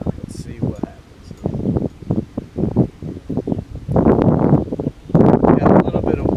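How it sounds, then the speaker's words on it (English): Gusty wind blows outdoors at an archery test of broadhead arrows, buffeting the microphone in loud, uneven rushes that swell and fade. Brief rustles come in between, with no clear talk. "Got a little bit of wind today."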